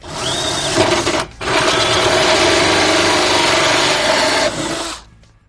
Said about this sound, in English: now we have to do some drilling to get this into place